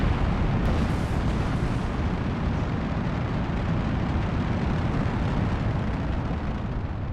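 Rocket engines roar at launch in Kerbal Space Program, a dense, steady, loud rushing thrust noise that fills the whole stretch without easing, with no voices over it.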